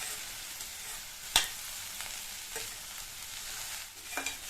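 Okra (vendakkai) sautés over a medium flame, a soft steady sizzle with a few sharp stirring scrapes against the pan, close but fairly quiet, no voices.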